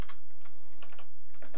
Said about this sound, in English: I'm not used to programming with this particular keyboard, so I'll probably have a lot of typos